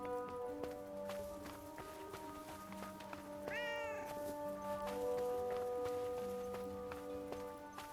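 A cat meows in the Forspoken video game, one clear rising meow in the middle over steady game music, with light hoof-like clops and ambient tones running throughout.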